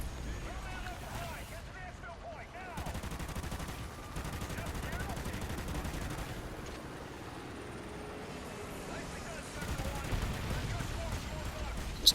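Video game gunfire with tanks and a nuclear explosion nearby: rapid bursts and single shots run steadily over a windy, rumbling backdrop, growing denser near the end.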